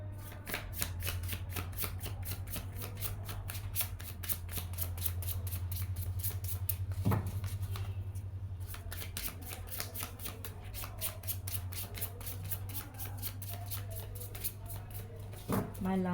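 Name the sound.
shuffling tarot cards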